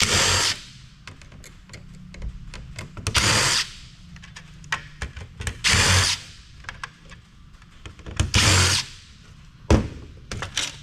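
Power drill unscrewing screws from an outdoor-rated electrical switch being scrapped, heard as several short whirring bursts separated by quiet gaps and small clicks and handling knocks, fairly close.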